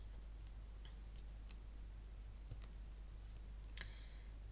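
Scissors snipping paper in a quiet room, a few faint, sparse sharp clicks spread out over a steady low hum.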